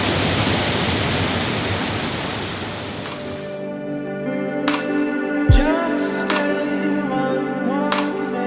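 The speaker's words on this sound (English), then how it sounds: "Enjoy some more waterfall action." A waterfall roars as a dense, steady rush of falling water for about three seconds, then cuts to a quieter scene with tonal hum and a few sharp knocks.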